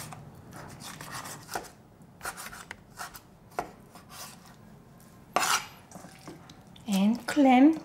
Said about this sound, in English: The squid, I have to chop it up.